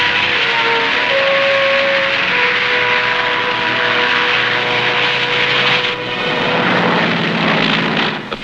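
A propeller airplane lands on a freshly cleared wartime airstrip on Tarawa in 1944, its engine roaring loud and steady before easing off near the end.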